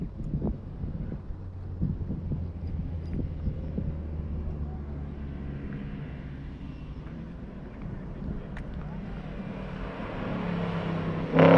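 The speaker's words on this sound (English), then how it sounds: "the double nickel Fiesta ST coming through" A Ford Fiesta ST race car passes on the Memphis track during a race session, its engine note droning and shifting in pitch as it goes by amid wind noise, swelling louder again at the end.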